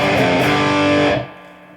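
Electric guitar through a King Drive overdrive pedal, a loud sustained distorted chord that rings for about a second and then cuts off abruptly into a fading tail.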